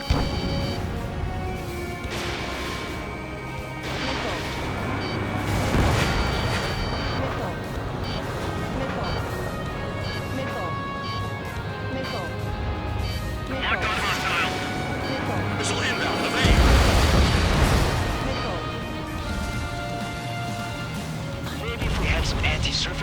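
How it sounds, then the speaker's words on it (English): Missile launches and explosions rumble through an Ace Combat 7 campaign battle, repeated booming blasts and whooshes layered with radio chatter and engine drone, loud and dense throughout. "Missile launched. Spare 15 target destroyed."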